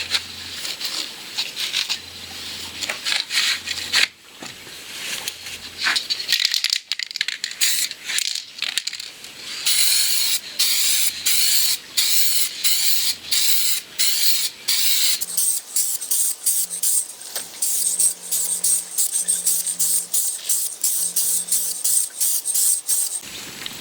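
Spray can laying down a second clear coat over sun-damaged car paint, long hissing bursts broken by short pauses and a few clicks and rattles, close and loud, with no talking.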